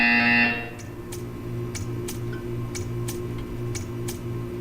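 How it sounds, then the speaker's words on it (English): A loud electronic buzzer sounds for about half a second in the video game Portal 2, then gives way to a steady, quieter ticking pattern. "When you hear the buzzer, stare at the art."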